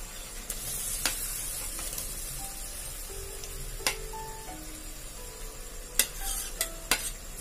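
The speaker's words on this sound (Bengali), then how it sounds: "এবার আমি চিংড়ি মাছটাকে দিয়ে দেব চিংড়ি মাছটাকে দিয়ে দিচ্ছি" Prawns slide into a pan of bubbling liquid for a yogurt prawn curry, with a soft continuous simmering hiss punctuated by a few sharp clicks and taps from utensils, and no one speaking.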